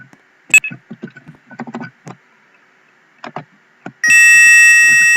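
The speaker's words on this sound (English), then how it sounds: "So we're going to activate the alarm now." An intruder alarm panel sits armed; after a few scattered clicks and beeps from the keypad, a loud, sustained electronic alarm tone suddenly cuts in and holds steady to the end.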